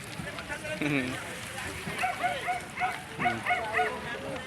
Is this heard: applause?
no